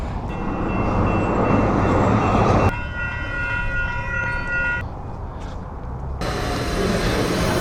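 A Calgary tram rolls through, its steady rumble and rail noise loud and close throughout, with shifting tonal squeals and hums as it moves, no voices heard.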